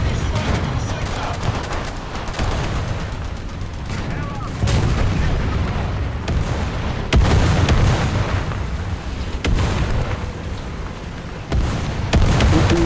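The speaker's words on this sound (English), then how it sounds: "Oh, that's not good. Artillery fire?" Booms and blasts of artillery fire from the War Thunder combat game roll in repeatedly over a dense battle din, several heavy thumps spaced through the scene, with a player talking over the action.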